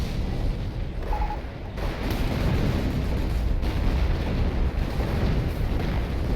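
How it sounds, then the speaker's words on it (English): Artillery barrage in the World War II strategy game Company of Heroes, with a dense, continuous rumble of overlapping explosions and low booms rolling on without pause throughout. "Now let's watch all the artillery coming in."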